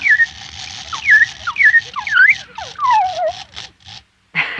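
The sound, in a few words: wind-up automaton whistling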